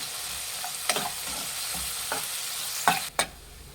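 Boiled green peas are stirred with salt in a pan: a few sharp scrapes and clinks of a spoon against metal over a soft, low background hiss, with a louder knock near the end.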